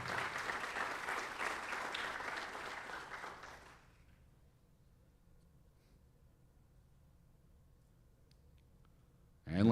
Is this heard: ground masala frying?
no